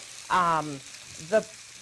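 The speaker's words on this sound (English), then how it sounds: "You can hear them kind of sizzling in the pan." Pan-seared Smithfield Prime pork chops sizzle in a hot pan with a steady frying hiss, broken by two short, squeaky tonal bursts.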